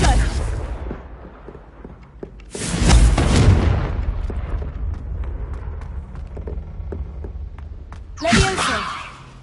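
In Hogwarts Legacy, a Confringo fire spell goes off as two loud booming explosions spaced several seconds apart, with quieter combat noise between them.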